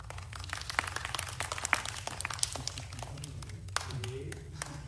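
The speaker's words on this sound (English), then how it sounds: "applaud really loud" An audience at the Canadian Space Strategy presentation claps in a quiet, scattered patter of many hands, with sharp individual claps standing out, heard from some distance throughout.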